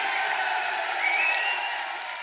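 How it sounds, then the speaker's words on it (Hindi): A large crowd at a political rally claps steadily, a continuous wash of applause at moderate distance with faint cheering mixed in. "ताली बजाइए, और जोर से ताली बजाइए।"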